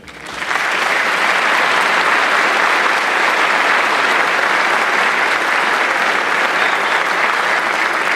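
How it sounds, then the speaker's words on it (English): Sustained, dense audience applause fills an inauguration ceremony in Aurora as the gavel passes to the new mayor, swelling quickly after a brief start and holding steady and loud throughout. "One more round of applause as he passes the gavel tonight"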